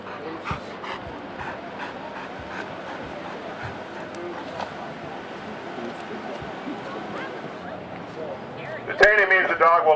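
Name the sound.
police K-9 dog barking and whimpering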